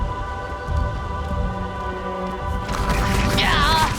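Light drizzle patters steadily in an animated show, a soft continuous hiss of falling rain heard under other sounds, with a voice rising briefly at the end.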